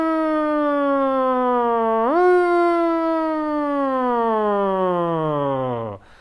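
A singer's voice imitates a siren, sliding smoothly on a buzzing V consonant, rising briefly then falling steadily in one long continuous glide that stops abruptly after about six seconds, loud and alone.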